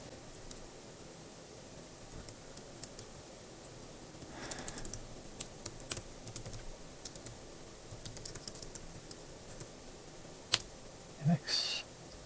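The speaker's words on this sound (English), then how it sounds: "so I typed it in again" Computer keyboard keys are typed in short, uneven bursts of quiet clicks, with a few louder isolated taps near the end, in a quiet room.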